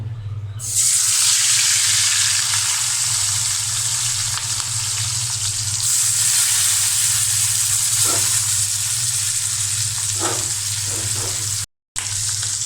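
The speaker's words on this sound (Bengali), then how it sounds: "এখানে মাছ ভাজি হচ্ছে" Fish frying in hot oil in a pan gives a loud, steady, close-up sizzle that hisses evenly throughout, with a few faint pops and a momentary dropout near the end; no one speaks.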